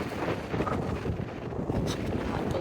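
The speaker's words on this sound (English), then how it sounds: "It is so cold and windy" Cold, strong wind on the summit of Cadillac Mountain in Maine buffets the microphone in a steady, rough roar with slight gusting swells and no voices.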